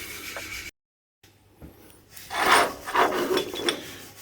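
A bolt on an off-road trailer build being cut down to length, giving close, rasping back-and-forth strokes that grow louder and more rhythmic after a short silent gap.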